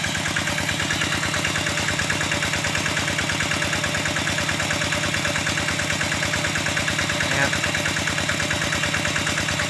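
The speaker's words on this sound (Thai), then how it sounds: "มีแต่อากาศนะครับ ไม่มีน้ำ เครื่องก็จะเร่งประมาณนี้ครับ" Small water pump engine runs steadily with no water in the line, drawing only air, a continuous close, loud mid-pitched drone with a dense rapid pulse throughout.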